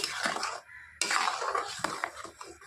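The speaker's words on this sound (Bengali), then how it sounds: "আর এভাবে নাড়তে হবে যতক্ষণ না এই রসটা একটু ঘন ঘন হয়ে না এসছে" Utensil scraping and clinking in a pan while mango juice is stirred over low gas heat to thicken for homemade aamsotto, with a short pause partway through.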